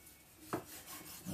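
A knife trims the end off a tuna gimbap roll, a quiet close rasping cut with one sharper pressing stroke midway and a firmer thud of the blade against the board at the end.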